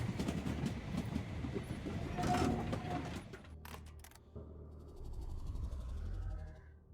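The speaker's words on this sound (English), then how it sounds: "Release the train from the brakes." A train rolls along rails in the video game Voidtrain with a dense rumbling clatter that drops back abruptly partway through, then continues as a lower, smoother rolling sound.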